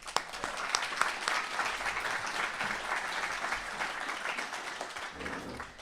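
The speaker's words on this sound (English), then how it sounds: "Let's give our friends and family a big, heartfelt, and a very well-deserved round of applause again." Applause at an internal medicine resident graduation ceremony, a crowd clapping steadily at moderate distance, a warm continuous patter that holds for several seconds and then thins slightly near the end.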